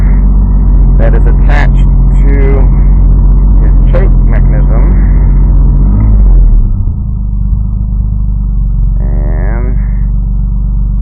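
A car engine runs at fast idle with the choke cam holding the revs up, a steady loud rumble throughout with someone talking over it during the first six seconds.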